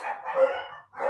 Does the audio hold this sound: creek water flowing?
no